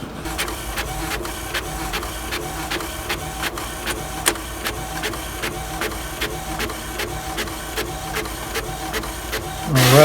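An inkjet printer runs a T-shirt heat-transfer sheet for dark fabric, its print head shuttling in a steady train of quick clicks and whirs at close range, with a louder mechanical rise right at the end.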